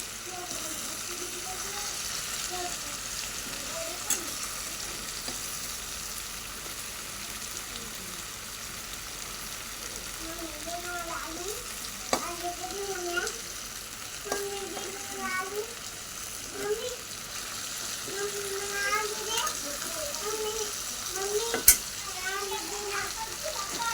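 Potato chips fry in a pan while being stirred, a soft continuous sizzle with occasional scraping, and faint voices in the background.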